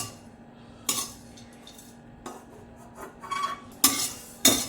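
Spices dry-roasting in a pan, stirred with a utensil that scrapes and clinks against the metal in several sharp bursts, with only a faint sizzle between strokes.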